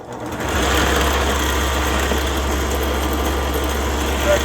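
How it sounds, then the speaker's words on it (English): A drill press spins up and runs at a steady, loud, even hum in a workshop where a Kydex-wrapped leather knife sheath is being made; the motor rises within the first half second, then drones on alone without speech. "Drill press warms up."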